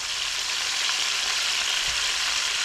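Pork pieces browning in a frying pan, heard as a loud, steady, even hiss of sizzling fat that stays continuous throughout, with no talking.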